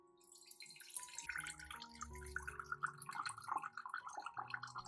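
Liquid made from soaked banana peels strains into a container as a faint, trickling pour with small drips, close and quiet.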